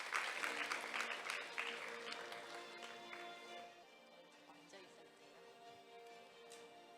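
An audience at a Korea-OECD seminar applauds, strongest at the start and slowly fading to quieter, sparser clapping with a low hum underneath.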